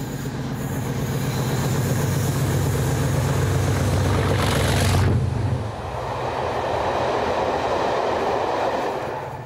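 A southbound Class 37 diesel freight train nears the summit near Caerphilly Tunnel in South Wales, its engine droning loudly with wheel squeal and clattering wagons, the roar dropping off sharply about halfway through as the train passes.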